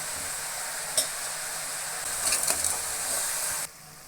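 Turmeric and spices being stirred in a hot oiled pan for egg and country chicken sambar, a steady bright sizzle with a few scraping clicks of the spoon, close and continuous before cutting off near the end.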